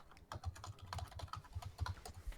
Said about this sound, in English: He's typing away, everyone.